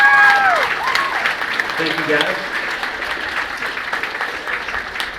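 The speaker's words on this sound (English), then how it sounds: "So y'all give our freshmen a round of applause." An audience at a high school band banquet claps for the freshman band class, broad applause that starts strong and tapers off, with a voice speaking briefly over it at the start.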